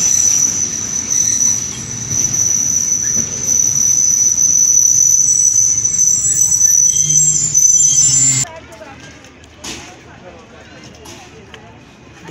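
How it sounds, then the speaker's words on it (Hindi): The Jaffar Express pulls out of Gujranwala railway station in Pakistan with a loud, steady rumble and a sustained high wheel squeal for about eight seconds. The noise then drops to a quieter rattle with scattered clicks. "दोस्तों ट्रेन रवाना हो चुकी है गुजरांवाला रेलवे स्टेशन से"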